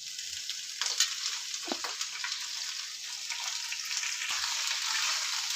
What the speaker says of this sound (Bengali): গ্যাসটা আমি স্লো করিনি, আমি জোর আঁচেতে পালং শাকটাকে নাড়াচাড়া করছি